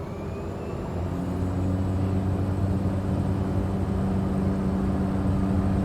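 An airplane in Microsoft Flight Simulator 2020 takes off with a couple of flaps down at St Paul, Minnesota; a loud, steady engine drone with strong low hum tones builds slightly after the first second and holds.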